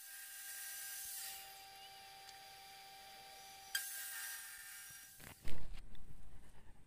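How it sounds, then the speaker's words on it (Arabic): A table saw trimming the edges of wood for a small DIY stool, a steady high whine as the blade runs, a brief cutting hit, then a louder thud and clatter as the cut finishes, with no talking. "ومن ثم على جهاز التيبل سو سويت"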